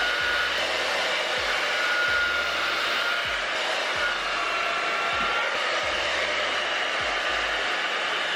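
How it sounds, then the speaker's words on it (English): A hair dryer with a concentrator nozzle blows with a steady, loud whoosh over type 4c natural hair, with soft periodic low thumps and clicks of handling beneath it. "you're going to grab your nozzled blow dryer and you're going to concentrate"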